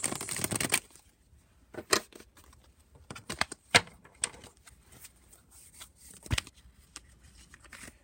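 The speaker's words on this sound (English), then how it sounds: "I'm trying to shuffle and like a card got stuck like here" Tarot cards being shuffled in quick papery bursts, with a dense riffle at the start followed by scattered flicks and slaps as a card sticks, close and fairly quiet.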